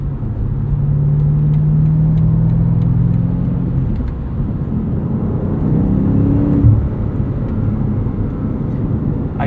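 A 2022 BMW M5 CS is driven, heard from inside as a steady, loud engine drone and road roar that rises in pitch as it accelerates, then settles into a constant hum.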